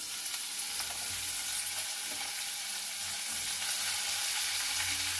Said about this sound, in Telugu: ఒక 2 స్పూన్లు నూనె వేసుకొని ఇది పుదీనండి వేపుకోవాలి.